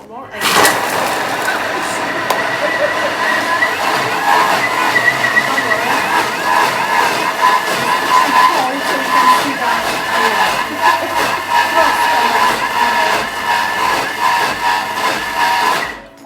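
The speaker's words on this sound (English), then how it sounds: "And it will be chopping for 50 seconds and speed 8." A kitchen cooking machine chops food at speed 8, giving a loud, steady, high-pitched whirring roar that runs unbroken for about fifteen seconds before cutting off at the end.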